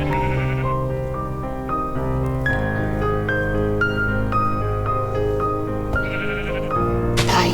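Sheep bleating in a video game while being hunted, the calls sounding over a continuous game music backdrop with sustained tonal layers throughout.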